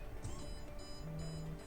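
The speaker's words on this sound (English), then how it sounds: "the alarm will be beeping" An IR alarm system on a biometric entry door beeps after the door is opened, with repeated short, high electronic tones and a brief lower tone, faint and alone.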